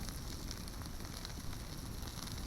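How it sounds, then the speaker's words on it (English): Food sizzles over a campsite fire beside a wilderness lake, a steady, even hiss and crackle that carries on without pause at a soft level, with no talking. "There, it's sizzling."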